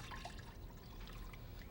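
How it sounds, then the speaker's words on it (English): Lukewarm tap water is poured into a small bowl in a home kitchen for proofing yeast. It makes a faint, steady trickle throughout, close but quiet. "pour it into my little bowl here, you see"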